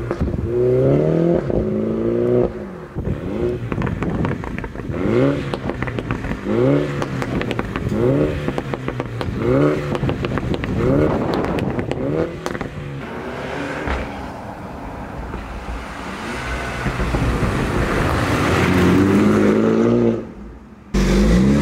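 A loud Mini John Cooper Works (231 hp) with a performance exhaust revs hard in Sport track mode, valve open, through repeated rising pulls and gear shifts, its raspy exhaust roaring close by, then briefly drops off near the end.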